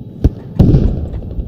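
An RPG rocket in Squad hits with a sharp thump, followed a moment later by a heavier, louder blast that rumbles briefly before fading, both close.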